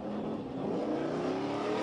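A powerful Chevy race truck in the super stock truck class roars and climbs in pitch as it launches up the Pikes Peak hill climb course, loud and continuous with a rising engine tone.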